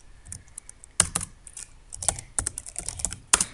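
Fingers type code on a computer keyboard at close range: quick, uneven clicks with several sharper, louder key strikes, and no voices.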